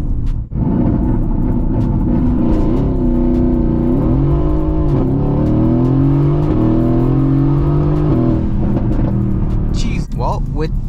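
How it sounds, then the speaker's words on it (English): A 670 hp Mercedes-AMG GT S makes a launch-control start in sport handling mode: a deep, loud engine roar climbing through the gears, pitch rising and dropping at each upshift, with a brief voice near the end. "we're gonna put the car into sport handling mode and do the launch again"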